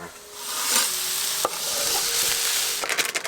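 Vegetables frying and charring in bacon grease in a pan in an off-grid cabin kitchen, a steady close hiss and sizzle with a few sharp crackles and the scrape of stirring.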